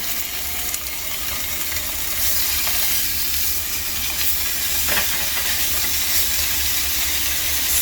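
Ham fries in a hot pan with a steady sizzle and faint hiss, a close continuous crackle that holds at an even level with a few brief stirring or turning noises and no speech.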